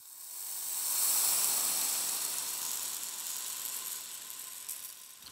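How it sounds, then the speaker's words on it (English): A soft, hissing cascade of small beads, like a rain stick, swells and then slowly thins out, steady and fairly quiet. "it's just the dry rain stick."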